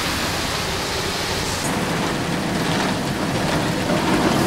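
Loud, steady hiss of a car wash water sprayer, a dense broadband wash that barely changes over a few seconds.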